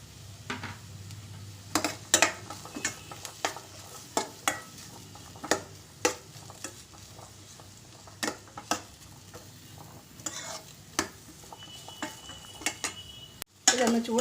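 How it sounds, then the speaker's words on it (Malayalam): Beans and vegetables for upma being stirred in a pan: repeated sharp spoon clinks and scrapes against the metal, spaced irregularly over a low sizzle, with a louder clatter at the very end. "എന്നിട്ട് നമുക്ക് ഇതൊന്ന് യോജിപ്പിച്ച് കൊടുക്കാം"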